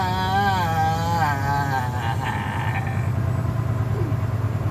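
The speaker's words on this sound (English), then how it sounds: "Look at this traffic, man." From inside a car stuck in road traffic, a steady engine and road hum drones on. A voice speaks over the top of it.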